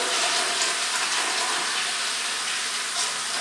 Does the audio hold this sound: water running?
yes